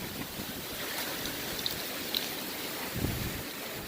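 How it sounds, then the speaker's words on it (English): Strong wind gusts through big, heavy trees during a windstorm, making a broad, steady rushing roar at moderate level with a few faint creaks and knocks, and no talk. "This is wind right here."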